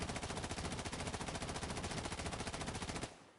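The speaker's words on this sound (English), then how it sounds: "For reference, this is what the P90 recoil looks like." P90 submachine gun in the Insurgency Sandstorm video game firing one long, rapid full-auto burst of evenly spaced shots for about three seconds, then stopping abruptly into quiet.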